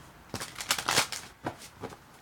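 A deck of cards is shuffled close by in several quick riffling bursts with short pauses between them, crisp and fairly loud with no talk.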